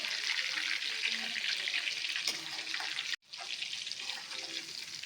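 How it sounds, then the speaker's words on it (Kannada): Prawns for prawns 65 fry in a pan with a steady, bright hiss that runs continuously, cut by a sudden brief silence near the end before the sizzling resumes. "ಚೆನ್ನಾಗಿ ಫ್ರೈ ಮಾಡಿ ಬೇಗ ಫ್ರೈ ಆಗಬೇಕು ಇದು"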